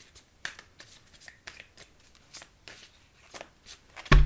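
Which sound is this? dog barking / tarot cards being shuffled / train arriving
tarot cards being shuffled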